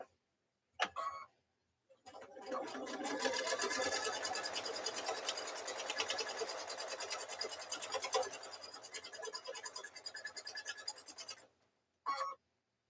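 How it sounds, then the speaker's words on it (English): A sewing machine stitches along a quilt block, a fast steady mechanical ticking run lasting about nine seconds, preceded and followed by short handling clicks, fairly quiet and close with no talk. "So we're going to stitch along here"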